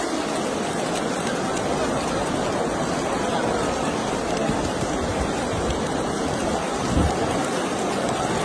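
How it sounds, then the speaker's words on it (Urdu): Heavy rain pours steadily with thunder in Medina, a dense constant hiss of drops with a low rumble rising briefly near the end. "اسی طرح مدینہ منورہ میں بھی بارش ہوئی۔"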